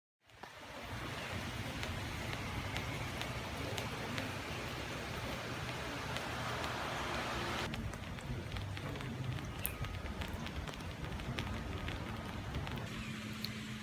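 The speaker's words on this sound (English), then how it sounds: "Man, I hate driving in the rain." Steady rain drumming on a car while driving, a dense continuous wash of patter and road noise that holds at an even level throughout, with no voices.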